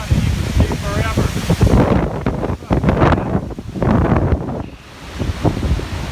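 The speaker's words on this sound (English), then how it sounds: "it's just a little bit windy today." Strong wind gusting across an exposed Appalachian Trail mountain overlook near Cove Mountain, buffeting the microphone in loud, uneven roaring waves, with a person talking over it.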